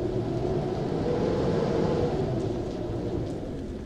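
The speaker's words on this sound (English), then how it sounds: "Oh, it's raining." Steady rain hisses in a gusty apartment in the Taiwanese horror game Devotion, an even, unbroken wash of close, fairly loud noise that fades slightly toward the end, with no one talking.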